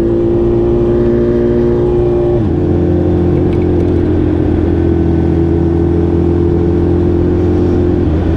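A group of motorcycles rides out with a loud, close, continuous engine drone that drops in pitch briefly before holding steady, with no voices.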